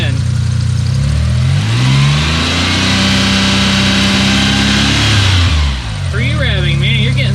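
A Suzuki Cappuccino engine under Microsquirt control revs during an ignition timing test, loud and close, climbing and falling in pitch through several throttle blips before settling near idle while someone talks.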